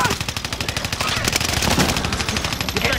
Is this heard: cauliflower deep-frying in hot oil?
no